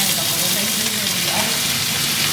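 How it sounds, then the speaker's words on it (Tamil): Mustard seeds and curry leaves sizzle and crackle steadily in hot oil up close, a continuous frying hiss with no pauses. "எண்ணெய் கொதிக்க வச்சோன்னா கடுகு போடணும்"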